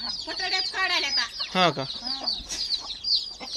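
A small village hen on a grandmother's farm clucks among her many chicks, their thin high peeping running throughout while a person talks briefly nearby.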